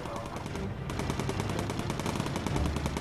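Rapid machine gun fire rattles continuously from a bomber in the Bomber Crew video game, dense loud bursts with only a brief gap early on.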